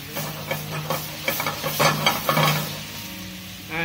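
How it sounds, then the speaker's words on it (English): White wine sizzling in a hot pan as the alcohol cooks off, a steady hiss with stirring scrapes and small pops, close and moderately loud. "you're cooking the alcohol off the white wine"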